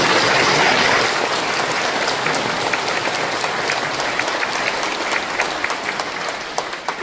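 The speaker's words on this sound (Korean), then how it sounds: "박수 한번 합시다." Church congregation claps together at a pastor's installation service, a dense, steady wash of many hands filling the hall, gradually thinning toward the end with scattered louder claps.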